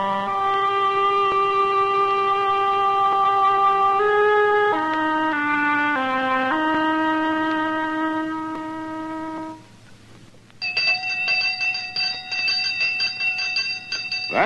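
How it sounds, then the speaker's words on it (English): A village school bell rings out in steady, sustained tones that layer and shift in pitch, loud and close, then breaks briefly before a brighter, higher ringing resumes alone. "That's the sound of the village school bell,"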